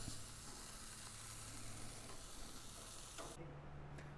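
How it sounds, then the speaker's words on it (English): Moroccan kefta on a grill gives off a constant, soft sizzle and hiss that runs unbroken, with a brief scrape or shift near the end. "we're grilling the kefta"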